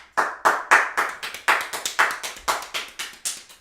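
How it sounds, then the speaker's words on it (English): A single person claps about fourteen sharp, evenly spaced times in a close, dry room, steady and loud, with no crowd or talk around it. "That's called the Gretzky round of applause."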